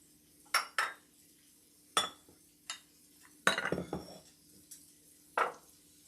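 Shrimp and pasta tossed together in a pan for shrimp scampi, a quiet scene of scattered utensil clinks and short scraping clatters with silent gaps between them.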